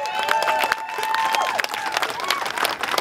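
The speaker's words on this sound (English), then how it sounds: "Can we clap for that?" Audience at a Seattle Seahawks charity event claps and cheers for children, a lively mix of hand claps, whoops and scattered voices close by.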